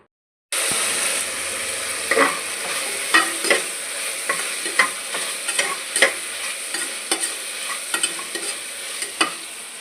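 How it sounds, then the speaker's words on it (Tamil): Dried red chillies, mustard seeds, onion and garlic sautéing in oil, a loud continuous sizzle broken by repeated sharp scrapes and clacks of a spoon stirring in the pan, close up and with no voices. "எண்ணெயை ஊற்றி ரெண்டு வத்தல் கொஞ்சம் கடுகு வெங்காயம் வெள்ளைப்பூடு போட்டு நல்லா வதக்கிட்டு"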